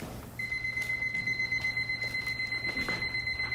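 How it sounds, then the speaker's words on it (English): A timer alarm beeps steadily and close by for several seconds during a debate round, with a continuous electronic tone and a quieter hum underneath. "I gotta do the annoying timer thing."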